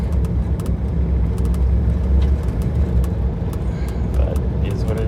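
A 1961 Buick engine fitted with an Edelbrock carburetor idles in a steady, close, low rumble that holds even and unbroken throughout.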